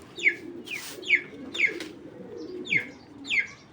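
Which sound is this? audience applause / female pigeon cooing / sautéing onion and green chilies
female pigeon cooing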